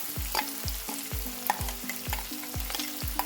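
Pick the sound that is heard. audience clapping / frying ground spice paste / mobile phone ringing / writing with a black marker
frying ground spice paste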